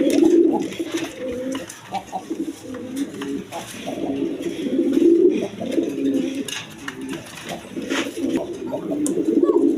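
Pigeons at a farm coo close by in repeated low, throaty phrases that overlap and run almost without a break, with occasional rustling in the background.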